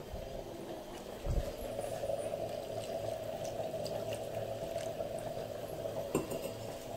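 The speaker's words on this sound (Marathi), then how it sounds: "थोडं पाणी अजून ॲड करणार आहे मी" More water added to a simmering pot of crab curry, a continuous close pouring and bubbling wash with a couple of brief clinks of a utensil against the pot.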